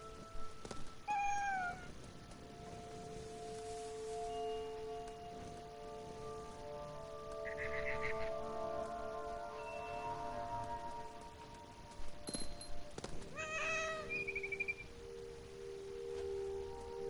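A cat meowing in a PS4 video game, several short meows spaced out over a long stretch, set against a continuous ambient backdrop of tonal game sound, rain-like patter and an occasional clang, with no talking.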